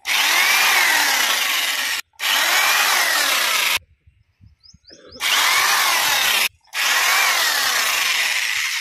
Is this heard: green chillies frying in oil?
no